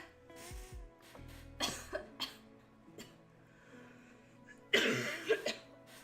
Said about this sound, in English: I didn't mean to cough like that